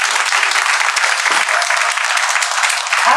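Loud applause fills the space, a dense, continuous clatter of many hands clapping together, steady from start to finish.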